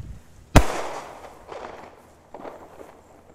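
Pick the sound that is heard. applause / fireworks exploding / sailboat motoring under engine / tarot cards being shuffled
fireworks exploding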